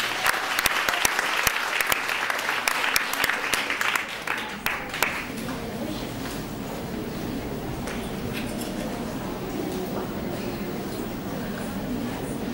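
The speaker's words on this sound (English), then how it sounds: "Let's clap our hands for the Lord, church." A church congregation claps hands for the Lord, loud dense applause for about four seconds that then subsides into a low murmuring room tone.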